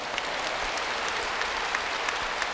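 A church congregation claps together during a Pentecost service, a dense, steady wash of applause that holds evenly throughout with no voices over it.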